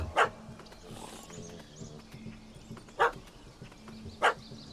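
A puppy in a video game gives three sharp, separate barks spaced a second or more apart over a quiet low background.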